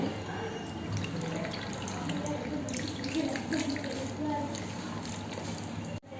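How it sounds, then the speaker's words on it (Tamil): Tamarind water splashes and trickles as it is poured into a dish, close up and fairly quiet, with a soft clunk at the end. "இப்போ கரைச்சி வச்சுருக்கிற புளியை அதில் ஊற்றுறேன்"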